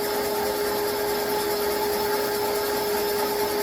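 A cylinder boring machine cuts the bores of a 6.0-liter LS engine block 30 thousandths oversize in a garage, producing a continuous droning whir with a steady tonal hum and no talk.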